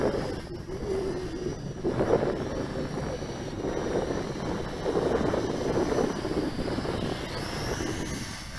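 A FEILUN FX176C1 beginner GPS quadcopter flies nearby with a steady, buzzing propeller drone that rises and falls slightly in intensity throughout.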